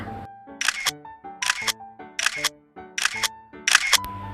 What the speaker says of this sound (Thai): เป็นเสียงของชัตเตอร์ ของกล้องถ่ายรูปนั่นเองค่ะ